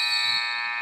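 A steady electronic buzzer sounds at the end of a quarter in a high school girls' basketball game, with one loud, even tone held for nearly a second.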